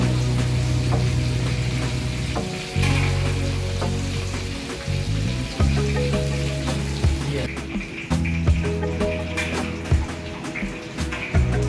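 Oil sizzles and crackles loudly as duck fries in a pan, with occasional stirring clatter and a low background hum.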